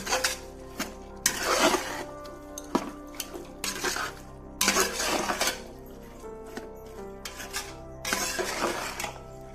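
Vegetables and masala are stirred in a pot, giving a series of irregular metallic scrapes and clinks in bursts, fairly close and alone, with quiet pauses between strokes.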